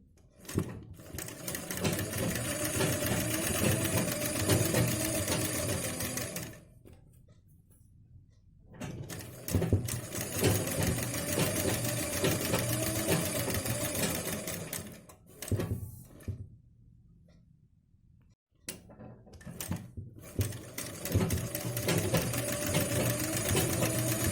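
Sewing machine stitching around a blouse neckline with lace trim: long stretches of steady, rapid mechanical whirring, broken by several short pauses and restarts, close and even.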